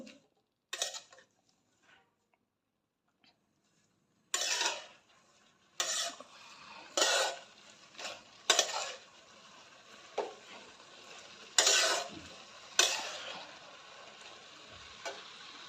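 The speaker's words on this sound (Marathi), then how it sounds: "कांद्याची पात मुगाची डाळ सर्व मिक्स करून घेते हे आणि एक दोन मिनटं परतून घेते हे सर्व" Spring onion greens and moong dal being stir-fried in a pan for a minute or two: sizzling under repeated scraping stirs, with sharp spatula clatters against the pan coming in bursts after a quiet start.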